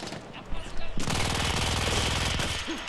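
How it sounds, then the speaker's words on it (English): Rapid machine gun fire from a double-barrel, double-clip gun in the Battlefield 1 story mode, a loud, dense, continuous burst that kicks in after about a second of quieter game ambience. "Rapid fire."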